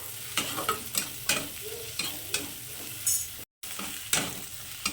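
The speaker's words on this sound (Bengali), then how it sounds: "আদাটাকেও এবার আমি জাস্ট দু মিনিট ভেজে নেবো" Ginger frying with onion and garlic in a pan, a steady close sizzle broken by repeated scraping stirs about once a second, with a brief dropout near the end.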